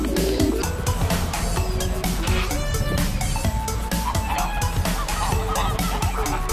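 Geese honk repeatedly and loudly during an outdoor hike with friends, their calls coming close together in a busy, overlapping stream with no talk.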